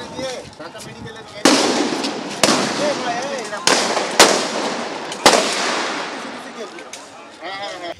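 A series of sharp, loud rifle shots fired by police at protesters from about 150 to 200 yards away at Chankharpul, about five spaced shots, each followed by a short echo, with faint voices in the background.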